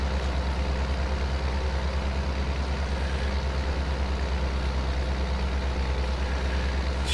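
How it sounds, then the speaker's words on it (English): A tractor on wide tyres driving through a dry wheat field in the farming game Farming Simulator 22, giving a steady, loud engine drone with a constant low rumble throughout and no pauses. "And this tractor's on nice wide tyres, which is going to help."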